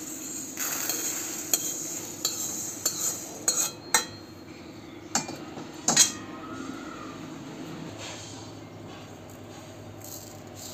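Roasted urad and moong dal being scraped from a pan onto a plate, with scattered metallic clinks of a spoon against cookware over a low background hum, a few sharper scraping knocks in between.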